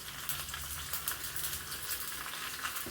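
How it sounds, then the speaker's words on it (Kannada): Cumin seeds, curry leaves and asafoetida crackle and sizzle steadily in hot oil during a tempering for a ridge gourd and green gram sambar, a dense continuous hiss with tiny pops, close by and with no talk. "ಒಂದು ಅರ್ಧ ಸ್ಪೂನು ಜೀರಿಗೆ ಹಾಕ್ಕೊಂಡಿದ್ದೀನಿ. ಸಿಡಿಬೇಕು."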